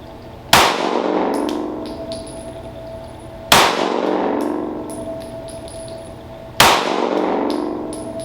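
Three sharp shots at range targets during shooting practice, evenly spaced about three seconds apart, each a loud crack with a ringing metallic tail that fades slowly, with no talk.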